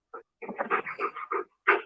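An upset puppy whimpers and whines after fireworks, a close string of short, broken cries with brief pauses and one final sharp whine.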